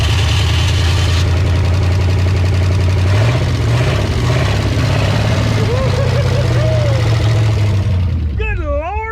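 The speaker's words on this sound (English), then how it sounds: "Good Lord, what a Ford! She was idling." A 1969 or 1971 Ford F100 truck engine, abandoned and now first started, idles loud and steady with a deep rumbling drone and a rough, uneven rhythm, with a brief squealing whine near the end.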